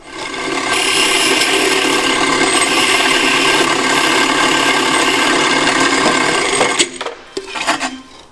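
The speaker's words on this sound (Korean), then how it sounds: "건조가 완료된 팁을 다듬어 줍니다." A dried tip is trimmed by hand in a Korean craftsman's workshop: a loud, steady, close rasping runs for several seconds, then gives way to scattered clattering and handling noises, with no voices.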